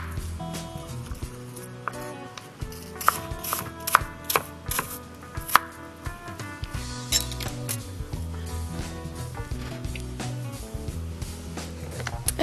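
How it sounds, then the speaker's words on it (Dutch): Quick knife strokes knock repeatedly against a cutting board in an irregular rhythm, cutting fruit into strips and then cubes, with a steady background hum of music or room noise. "En dan ga je ze weer reepjes van snijden en vervolgens blokjes."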